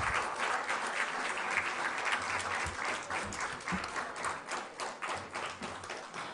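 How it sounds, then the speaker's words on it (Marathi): Sustained audience applause at a parliamentary youth session award ceremony, dense steady clapping from a large crowd for the full stretch with no talk over it. "जोरदार टाळ्या होऊ द्या"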